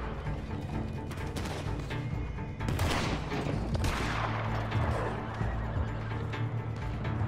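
Rifle fire rings out in Red Dead Online around Strawberry, with a few sharp, loud cracks and their echoes cutting through steady background noise, while horses whinny and stamp nearby.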